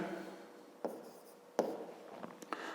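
Pen writing out a math solution on paper, quiet close scratching strokes with a few sharper taps.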